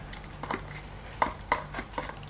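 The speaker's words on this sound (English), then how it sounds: "I'm just going to grate it because that needs to go onto my potato just before the end" A small hand grater scrapes a block of cheese over a baked potato, giving short dry rasping strokes in an uneven rhythm, close and fairly quiet, with no talk.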